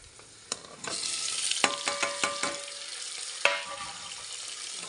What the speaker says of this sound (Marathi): टमाटा पण टाकते आता